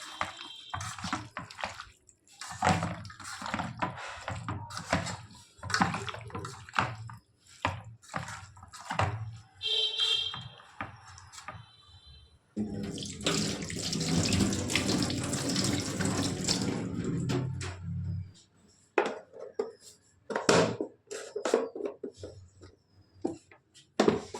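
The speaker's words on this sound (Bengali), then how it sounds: "ভালো করে জলটা ঝরিয়ে নিতে হবে আগে প্রথমে" A kitchen tap runs while meat is washed and drained, the water splashing in uneven bursts with a long steady gush midway, near and fairly loud.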